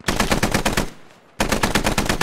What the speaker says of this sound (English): Dicky, shots get down.